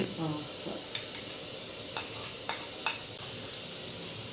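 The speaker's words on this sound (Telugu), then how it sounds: "ఇప్పుడైతే బీరకాయ ముక్కలు అయితే వేస్తున్నారండి ఆయిల్లో ఫ్రై చేయడానికి" Ridge gourd pieces frying in oil in a home kitchen pan, a soft steady sizzle with a few sharp clinks of utensils against the pan, fairly faint and without talk.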